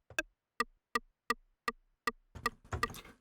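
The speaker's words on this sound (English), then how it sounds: "Kind of a woody, quite convincing rim shot sound." A woody synthesized rim shot, made with the ring modulation oscillator of a Yamaha Reface CS, clicks six times at an even pace, then several faster hits crowd together at the end.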